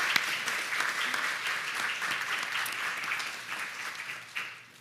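A crowd applauds a coach at a fellowship awards ceremony, with sustained even clapping that tapers off near the end.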